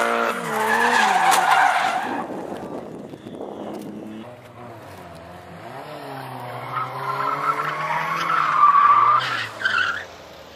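Car tires skid and squeal during drifting, long screeching wails that rise and fall over a roaring engine, loud and fairly close, with voices talking over parts of it.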